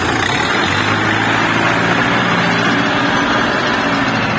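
A KENTAVR 404S tractor engine runs loud and close, a steady unbroken drone with a rough low rumble and no pauses or changes in pitch.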